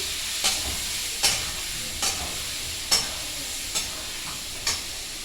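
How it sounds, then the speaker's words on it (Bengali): Spices sautéing in a pan with a splash of water, a soft, even sizzle with about six spaced spatula scrapes in a slow rhythm, close and with no talk. "দেখো কষাচ্ছি কীভাবে"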